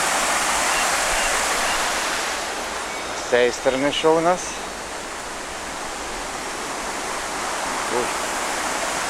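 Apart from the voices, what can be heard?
mountain river flowing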